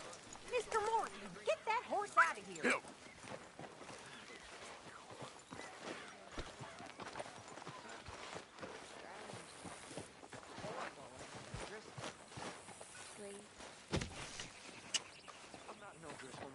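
Horse hooves clip-clop in Red Dead Redemption 2, a steady run of close, sharp hoof strikes mixed with game sounds, while voices talk over parts of it.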